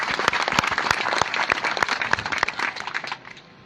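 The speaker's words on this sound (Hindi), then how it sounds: "जरा भरपूर तालियां बजा दें।" Applause from a crowd at an outdoor political rally in rural Pakistan, dense clapping that holds steady for a few seconds before thinning out near the end.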